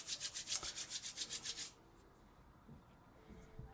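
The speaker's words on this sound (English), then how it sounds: "just clean our hands by rubbing" Hands rub briskly together for cleaning, about a dozen rhythmic swishing strokes in quick succession, close and clear, then a quiet pause with faint rustles.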